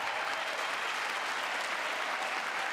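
A State of the Union audience applauds in dense, even, sustained clapping that fills the hall without a break.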